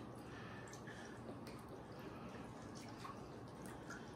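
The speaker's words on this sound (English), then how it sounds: "I'm just taking some chicken broth, pouring it over the top, real fancy" Chicken broth poured over the top of a raw turkey in a kitchen, a steady wet trickling and dripping that runs without pause, fairly faint and alone.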